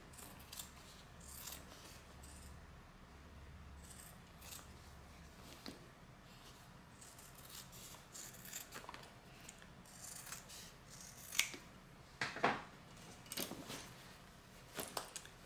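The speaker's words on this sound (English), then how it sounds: "we will trim the seam allowance back" Scissors trim a fabric seam allowance on a sewn tote bag, giving faint, scattered snips and rubbing cloth sounds, quiet and close, with a few louder cuts near the end.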